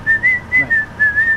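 A person whistles a simple tune in short, clear phrases with brief gaps, close and fairly loud over faint background noise.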